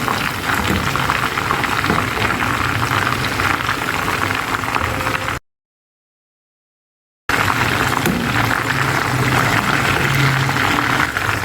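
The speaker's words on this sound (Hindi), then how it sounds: "और इसे फ्राई करूँगी मीडियम लो फ्लेम पर दोनों तरफ से" Chicken sticks, a crispy chicken boti, fry in oil over a medium-low flame with a dense, steady bubbling sizzle that cuts out briefly to silence before resuming just as strongly.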